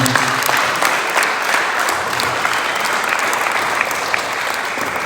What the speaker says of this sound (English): Mr. and Ms. Harris, we allow a round of applause.